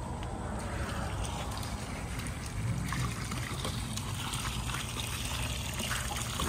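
Water flowing and trickling steadily outdoors, a continuous close rushing wash with a low rumble underneath and no talk.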